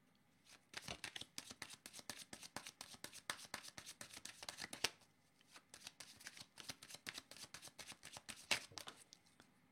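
Tarot cards being shuffled by hand in rapid riffling bursts, close and crisp, with a brief pause midway before the shuffling resumes.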